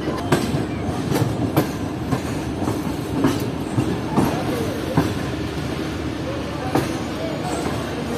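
A Pakistani privatized rail car runs along the tracks, its steady rumble carrying rhythmic clickety-clack wheel beats and occasional sharper clanks, loud and close from onboard, with voices talking in the background.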